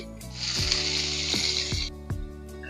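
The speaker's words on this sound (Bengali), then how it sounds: "এবার দিয়ে দেবো কেটে রাখা পেঁয়াজ।" Chopped onions drop into hot oil with nigella seeds, bay leaf and dried chilli, giving a loud, close sizzle broken by a few sharp knocks of stirring before it settles.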